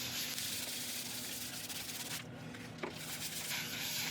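An ancient oak bowl spins on a lathe while being polished with abrasive paste, a steady close rubbing hiss with a short dip and brief tap midway.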